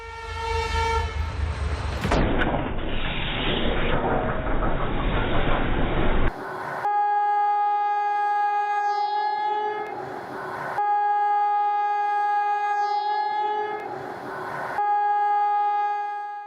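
A train at a railroad crossing blasts its warning horn in long repeated chords, loud and near, after a rush of rumbling noise, with the sustained blasts separated by short gaps.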